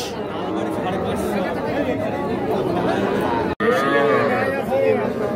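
Small bull and heifer calves moo at the busy Ambari cattle market. Their calls, clearest near the end, rise over constant crowd chatter and nearby people talking.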